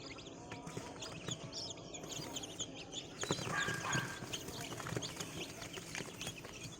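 Rhode Island Red and Light Sussex chicks chirp continuously in a busy chorus of overlapping high peeps, heard close up with a steady, faint background.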